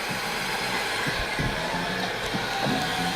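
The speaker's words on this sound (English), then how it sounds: "Usually every heat gun should have 2. And then just let it heat up for a bit" A heat gun set to its first setting runs steadily while warming up for drying screen-printing ink, giving a continuous broadband whoosh with a faint whine and a few soft low knocks throughout.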